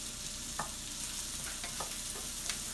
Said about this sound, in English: I'm going to stir fry these onions down